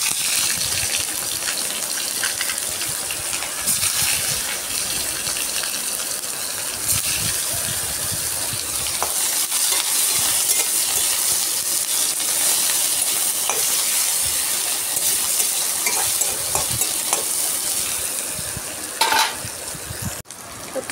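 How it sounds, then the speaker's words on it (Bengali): Sliced onions and green chillies fry in hot oil for a fish-fat and potato dish. A continuous loud sizzle hisses steadily for about twenty seconds, with a brief clink near the end. "তো তেলটা গরম হয়েছে, আমি পেঁয়াজ আর লঙ্কা একসাথে দিয়ে দিচ্ছি।"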